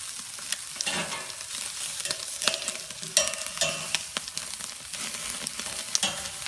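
Pesto chicken wings sizzle steadily on a hot grill, a crackling hiss with scattered pops and scrapes, close and moderately loud, with no talking.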